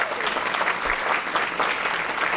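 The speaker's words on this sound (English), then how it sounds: "Let's get Dylan Thomas a round of applause." A steady, dense round of applause from an audience at a school district Black History event, continuing evenly throughout.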